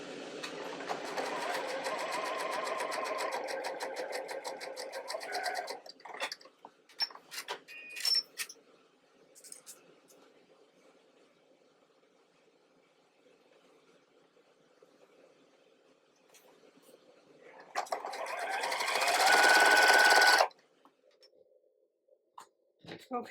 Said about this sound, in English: I'm going to sew right on the line that I drew before